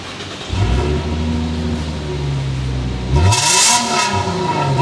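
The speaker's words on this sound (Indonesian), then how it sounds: "suara mesin gue dengerin lagi nih buat kalian" Modified Lexus GS300 engine revving up from idle, a loud close-up rumble that holds steady, then climbs sharply in a second rev with a rising roar, no voices.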